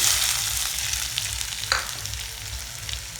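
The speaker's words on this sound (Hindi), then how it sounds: "अब डाल देबो प्याज" Onions sizzle and fry in hot oil, in a pan where cumin has already been added. The crackle is loud and continuous, with a brief stir or clink partway through, and there is no talking.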